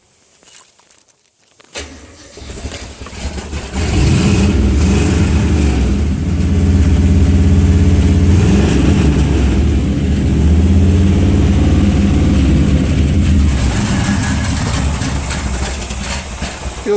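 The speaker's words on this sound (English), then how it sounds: "If I start the car," A car engine cranks, starts and settles into a steady, loud idle close by, with a low rumbling drone and no talking; the car has an internally leaking radiator mixing transmission fluid into the coolant.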